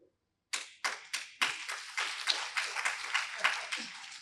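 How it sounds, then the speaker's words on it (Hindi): Applause from an audience at a spiritual discourse, led by the chairman: about a dozen sharp, evenly spaced hand claps after a brief silence, close and fairly loud, gradually blending into a quicker clatter. "हमारे अध्यक्ष जी ने ताली बजा दी"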